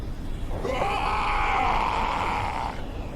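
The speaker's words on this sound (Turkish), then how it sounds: "Bu da böyle bağırarak arkadan geliyor." A Roblox game character screams in a long, loud, sustained wail from behind while chasing, set over steady background game noise.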